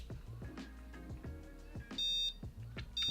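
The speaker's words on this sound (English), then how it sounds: "and it will arm your alarm" Two short electronic beeps from a Boundary home security alarm arming via key fob sound a second apart over quiet background clatter and soft thumps.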